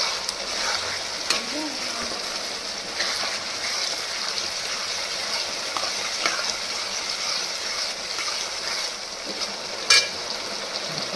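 Masala sautéing in a pan for chili soybean, a steady, even sizzle that hisses continuously with occasional faint clicks and a brief louder clink near the end.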